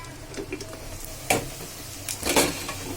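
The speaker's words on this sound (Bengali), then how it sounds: "এবার আমি এই পাত্রের মাংস এই পাত্রে ঢেলে দিব।" Cooked beef kala bhuna is tipped from one pan into another, hissing and sizzling in short bursts with utensil scrapes and light metal clinks, loudest toward the end of a few seconds.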